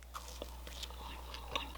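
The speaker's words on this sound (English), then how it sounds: "I'm chewing with my mouth open" A homemade corn dog is bitten and chewed close to the mic with the mouth open, giving soft, wet crunches and smacks in an uneven rhythm over a low steady hum.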